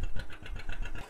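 A John Deere 620 tractor engine runs while belted to a Rumley tractor to turn it over, chugging in a steady rhythmic beat of about eight even pulses, heard close and fairly quiet.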